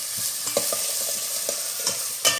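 Fennel seeds with curry leaves and onion are stirred in a hot frying pan, a steady close sizzle broken by repeated scraping and tapping strokes of a spatula, ending with a louder clatter.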